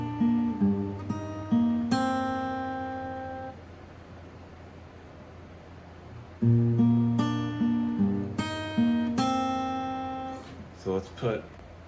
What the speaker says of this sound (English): So all together, it's going to sound like this.